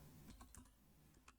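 Typing on a computer keyboard while entering a command at a Linux terminal: a few soft, quick key taps with short pauses, fairly quiet and close, ending in one sharper, louder keystroke.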